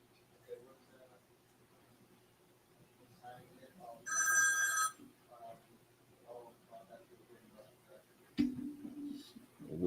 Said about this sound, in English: There goes the phone with this bullshit.